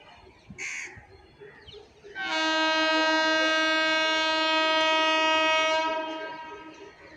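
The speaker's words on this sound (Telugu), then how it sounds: "వచ్చేసింది మన Ahmedabad puri weekly super fast express" The Ahmedabad–Puri weekly superfast express sounds a long, loud, steady horn blast of several seconds as it arrives, fading out at the end, with a crow cawing briefly beforehand.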